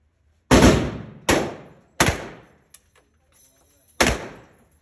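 A handgun fired at a shooting range in Las Vegas: four loud, sharp shots spaced roughly a second apart with a longer gap before the last, each ringing out with reverberant decay, plus a faint click between.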